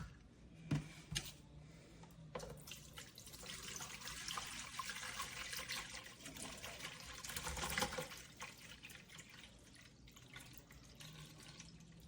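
Distilled water from a 1-gallon jug is poured into the top-fill tank of a Dreo 4L cool mist humidifier. It makes a steady, faint splashing trickle with brief gurgles throughout.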